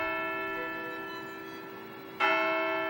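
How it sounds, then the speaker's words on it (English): Church bell ringing in the bell tower of Central Methodist Church in Winona, a sustained humming tone decaying slowly before a second bright strike rings out near the end, close and clear with no talking. "We're now currently standing in the bell tower of the Methodist Church, and I'm standing with Dick Harrington"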